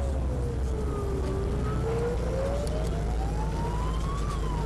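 A wailing emergency-vehicle siren sweeps up and down in pitch through steady street traffic, carrying clearly over the low rumble of passing vehicles for the whole stretch.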